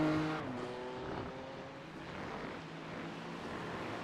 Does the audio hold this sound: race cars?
yes